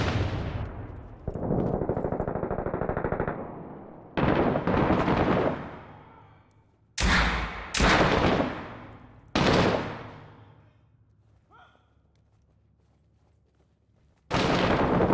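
Six Days in Fallujah firefight: several loud bursts of automatic rifle fire, some long and sustained, others short, separated by near-silent pauses, close and sharp with no voices.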